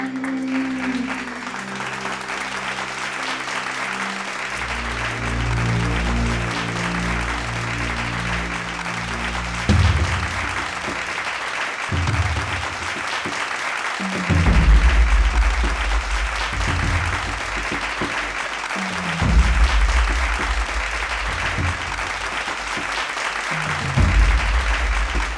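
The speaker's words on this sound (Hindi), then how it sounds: "तालियां।" Applause from an audience at a singing award event, steady clapping throughout with low music tones underneath and a few thumping accents.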